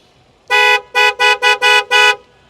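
A Creta-style car horn fitted to a Tata Punch honks six times in quick succession, loud and close, with short gaps between the blasts.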